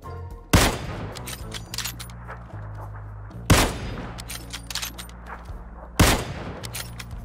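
Three loud, sharp Kar98 bolt-action rifle shots from PUBG, spaced about three seconds apart, each followed by a brief echo over a steady low in-game hum.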